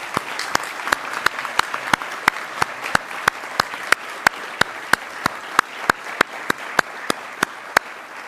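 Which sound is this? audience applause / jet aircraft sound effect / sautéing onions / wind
audience applause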